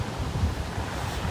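Surf rolling onto a sandy beach, a steady low wash of breaking waves with wind rumbling across the microphone, continuous and fairly loud with no voices.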